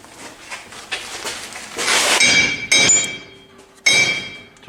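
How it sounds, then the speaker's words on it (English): Steel C-clips dropping out of the rear axle shafts of a Dodge Ram 1500 as the axles are pushed forward during a differential job, giving a few sharp metallic clinks and knocks, close and fairly loud, with no talk. "now we gotta push the axles forward, and we're gonna see some C-clips fall out"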